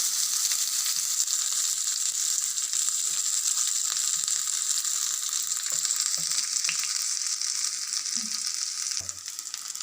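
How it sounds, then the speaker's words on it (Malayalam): Drumstick leaves sizzle in hot oil with popped mustard seeds in a pan, a steady close frying hiss with faint stirring clicks, continuing throughout with no talk. "ഇനി നമുക്ക് ഇതിലേക്ക് മുരിങ്ങയില ഇട്ട് കൊടുക്കാം"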